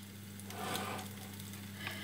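Vegetable patties fry in a pan with a steady, soft sizzle and crackle, close and fairly quiet, with no talking.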